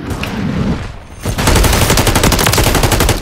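Call of Duty gunfire: after a muffled lead-in, a loud close stream of fast, evenly spaced shots bursts out and hammers on steadily to the end.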